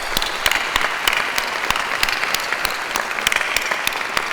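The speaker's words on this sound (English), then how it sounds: "So let's give a round of applause." Steady audience applause at a university doctoral hooding ceremony, dense continuous clapping from a large crowd that holds an even level throughout with no talk over it.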